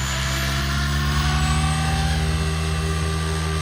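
A SAB Goblin Competizione RC helicopter's rotor whines steadily at high head speed, a dense continuous drone with a layered tonal hum, close and loud with no voices.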